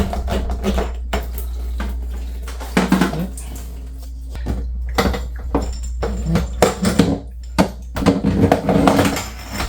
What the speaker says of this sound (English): All it takes is this little piece here. I'm going to twist that off.